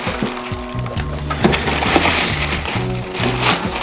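Running shoes being pulled from their packaging, with crinkling, rustling and crisp tearing sounds close by in quick bursts and no talking.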